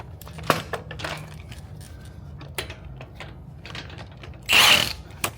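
Bolts on a 2025 Toyota TRD Tundra being loosened with a ratchet during a Rough Country lift install: quick runs of close metallic clicking and scattered clanks, with a louder, denser burst of ratcheting near the end.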